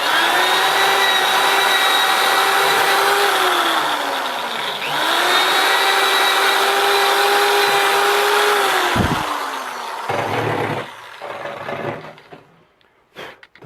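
Power drill boring through boards for a whitetail deer antler mold, a loud steady whine running in two long passes that sag in pitch under load, then cutting out into a few short bursts and handling clatter.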